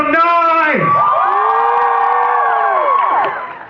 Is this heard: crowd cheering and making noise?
yes